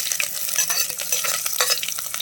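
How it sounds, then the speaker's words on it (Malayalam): Chopped ginger and garlic are sautéed in hot oil for a king fish curry, with a bright continuous sizzle and quick close scraping stirs. "ഒന്ന് വഴറ്റി കൊടുക്കാം."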